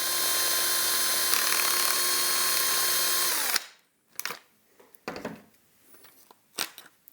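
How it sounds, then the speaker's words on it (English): A power tool grinds through a screw head during disassembly of an AKAI EWI 4000s wind controller, a loud steady high whine for about three and a half seconds, then stopping, followed by scattered clicks and handling noises. "I wanted to cut the screw head, the head of the screw"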